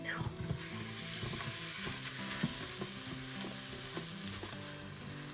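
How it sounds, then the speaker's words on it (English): Dry spices stirred and sizzling in an Instant Pot on sauté for a sweet potato and black bean chili, with a steady frying hiss and scattered scraping clicks of the spoon against the pot, close and moderately quiet. "mix it around so your spices don't start sticking"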